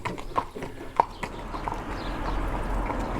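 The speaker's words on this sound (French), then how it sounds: "un cheval, un cheval" A horse walks past at a village primary school during recess, its hooves clip-clopping in a steady, fairly close rhythm over a bed of children's playground noise.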